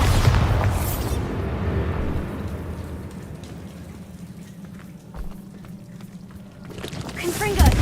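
Bombarda blasting spell in Hogwarts Legacy, a heavy booming explosion at the start fading into a rumbling wash, with another surge near the end.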